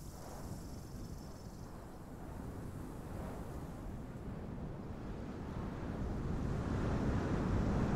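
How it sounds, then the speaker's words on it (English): Wind and low ground ambience layers from a Unity and Wwise game sound design demo: a steady, broadband windy rush with low rumble that swells gradually louder toward the end, with no voices. "we're going to hear a more intense wind layer, and the ground bass layer will fade out."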